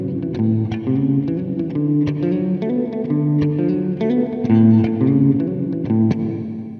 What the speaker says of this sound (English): So you can get lots of reverb.